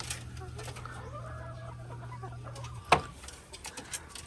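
Four chickens in a cage cluck and murmur nearby over a low steady hum, with one sharp squawk near the end.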